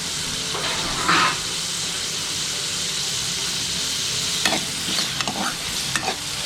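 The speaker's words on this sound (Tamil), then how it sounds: "எண்ணெய் காஞ்சதும் வெங்காயத்தையும் தக்காளியையும் நல்லா வதக்கிக்கிறணும்" Onions and tomatoes sizzle and hiss steadily in hot oil, with occasional scraping stirs of a spoon against the pan, close and continuous.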